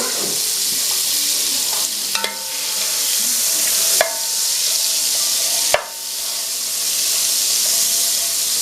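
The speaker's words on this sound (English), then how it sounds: "I'm going to let that melt down" Unsalted butter melting in a hot pan makes a loud, continuous hissing sizzle close up. A few sharp clicks and knocks break it at intervals, and no one speaks.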